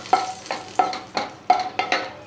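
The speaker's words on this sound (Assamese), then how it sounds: "এতিয়া শুকান জলকীয়া 2টা দি দিছোঁ, আৰু অকণমান লৰাই দিছোঁ" Two dry red chillies and sugar frying in hot oil, stirred in five quick regular strokes, each a close scrape over a soft, steady sizzle.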